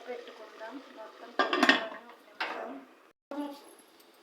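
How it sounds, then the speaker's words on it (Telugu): A lid set on a pot of simmering mutton curry, heard as a few close metallic clanks and scrapes with short pauses between them, and a faint voice underneath. "మూత పెట్టుకుందాం."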